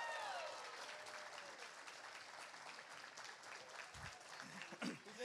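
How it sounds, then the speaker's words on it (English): A convention audience at a GalaxyCon Raleigh runway costume contest claps for Roman Legionnaire costumes, a steady spread of applause with brief voices rising near the end. "Round of applause for our Roman Legionnaires"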